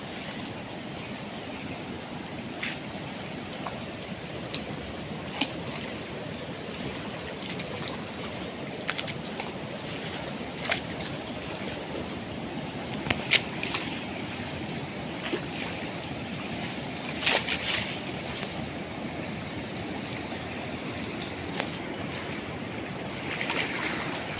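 Steady broadband rush of the flooded Kaveri River near Srirangapatna, continuous and fairly loud, with occasional faint clicks and knocks over the top; no voices.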